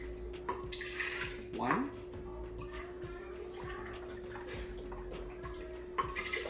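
Vegetable broth pours into an Instant Pot Ace Blender as a faint, steady liquid trickle and splash under a low hum, with a voice briefly counting aloud.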